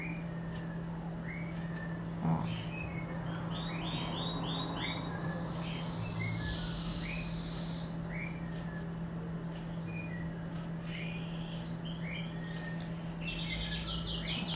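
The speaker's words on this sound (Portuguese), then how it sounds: "O passarinho tá contente hoje, ó. Vocês estão ouvindo ele cantar? A calopsita." A pet cockatiel sings with repeated short chirps and whistled notes throughout, moderately close, over a steady low hum and faint background noise, with no talking.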